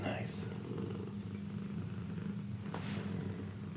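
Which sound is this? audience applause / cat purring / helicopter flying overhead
cat purring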